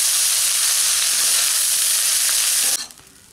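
Soya veg biryani ingredients being stirred together in a hot pan, a steady loud sizzle and hiss with stirring that cuts off abruptly near the end, leaving a faint quiet tail.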